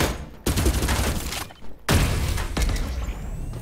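An automatic gun in Farlight 84 fires in rapid sustained bursts, loud and close, with brief pauses between strings of shots.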